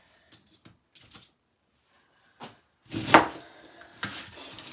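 A knife chops cabbage for soup in a home kitchen: a few sparse, light taps, then a louder cluster of crunchy cuts and scraping against the board, close by.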